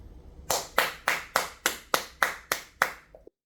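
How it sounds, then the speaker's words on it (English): Eight slow, evenly spaced hand claps from a single person, close and crisp in a quiet room, ending with a faint soft tap. "Give yourselves a round of applause, people."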